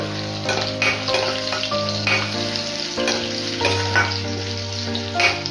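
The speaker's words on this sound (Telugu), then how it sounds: "వెల్లుల్లి ఇలా ఆయిల్లో బాగా ఫ్రై అయితే ఆ ఫ్లేవర్ చాలా బాగుంటుంది" Garlic frying in oil in a pan for ladyfinger (okra) curry, a steady close sizzle with stirring scrapes. A sustained low tonal drone runs underneath the whole time, and nobody speaks.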